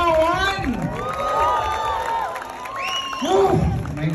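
A lively crowd cheering and screaming at a movie premiere night, with overlapping shouts and high whoops swelling and falling, plus some scattered clapping.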